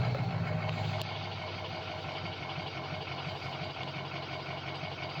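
A turbocharged engine idles steadily at close range, a continuous even rumble with a slight drop in level after the first second, no talk over it.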